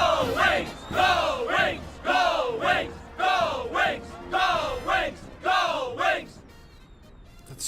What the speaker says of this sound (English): That's so much cheering.